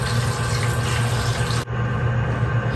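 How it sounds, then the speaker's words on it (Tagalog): Water pours steadily over tuna fish in a cooking pot, a loud continuous splashing and gushing that breaks off briefly, then carries on. "Yung tubig, ang gawa ko nito, ipinapantay ko dito sa isda."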